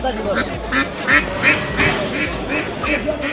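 Ducks quacking at a village market in Kotalipara, Gopalganj, a run of about ten close, loud, rhythmic quacks, with people talking over them.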